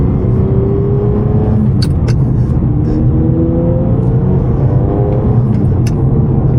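Ferrari 550 Maranello pulling away under light throttle, a loud, smooth low engine drone close by with gently rising revs and a steady rumble throughout.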